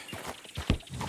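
Horse hooves clip-clop in Red Dead Redemption 2, a few uneven near thuds in a short burst, one heavier step standing out against quiet background.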